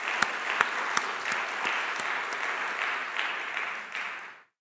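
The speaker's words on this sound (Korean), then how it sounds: "우리 하나님께 영광, 우리 격려 박수를 주겠습니다." A church congregation applauds its choir during a Sunday worship service. A few sharp, distinct claps open a full, even round of clapping that holds steady and then fades out quickly at the end.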